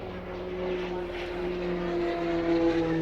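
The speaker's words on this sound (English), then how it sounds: "the Tucano is now airborne" A Tucano turboprop trainer flies at the Waddington airshow, its steady engine drone loud and continuous with a sustained tonal whine throughout.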